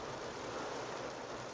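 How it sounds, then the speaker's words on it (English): Rain falling on a parked car, heard from inside as a soft, steady hiss of drops on the roof and windows, faint and continuous. "why are you hearing rain on the background? Because I'm in my car and it's raining"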